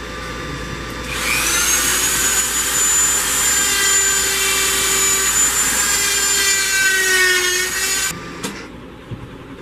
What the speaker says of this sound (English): I'm taking this pointy die grinding bit and I'm going in and cleaning up all the cymbals